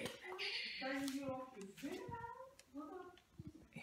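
A cat meows in several drawn-out, rising and falling cries close by, with people talking over and around it.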